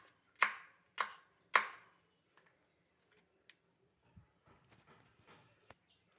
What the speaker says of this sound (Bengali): এবার এরকম ছোট ছোট করে টুকরো করে কেটে নেব